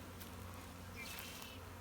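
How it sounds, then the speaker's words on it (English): Honey bees, many of them young nurse bees, hum in a continuous faint drone at an opened hive during a spring split in Durango, Colorado. "We've got a lot of young nurse bees in here."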